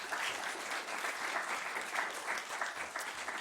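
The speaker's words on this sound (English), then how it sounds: "How about a round of applause for them?" Sustained applause from a conference audience thanking a panel at an energy policy event, even and continuous, heard from within the room at moderate level.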